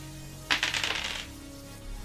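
Dice are dropped and clatter across a tabletop during a tabletop role-playing game, a short burst of rapid clicking rattles that settles within about a second, alone without talk.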